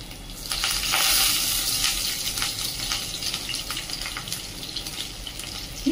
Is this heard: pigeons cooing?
no